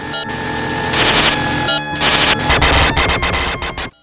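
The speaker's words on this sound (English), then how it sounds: "When you attack something and it isn't hurting them, it makes this noise." Harsh, noisy game sound effects from Sega Genesis Ghouls 'n Ghosts ring out when an attack strikes an enemy, a cluttered run of repeated metallic hits and chirps over constant background game audio, loud and busy throughout.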